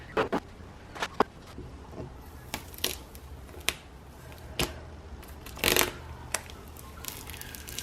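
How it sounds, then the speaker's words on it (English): Adhesive vertical tiles are peeled off a kitchen wall, giving irregular sharp crackling rips and sticky tearing bursts close by, separated by short pauses, with no talking. "we're going to peel these off, and hopefully they peel off really easily"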